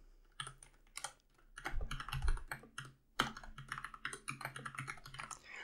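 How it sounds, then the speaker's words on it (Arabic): Text is typed on a computer keyboard in the Emacs editor: close, brisk key clicks come in uneven bursts, with a short pause partway through and no talk. "هلا انا بدي اكتب اي نص هلا انا رح اختار اللغه العربيه وخلينا نكتب اي شيء"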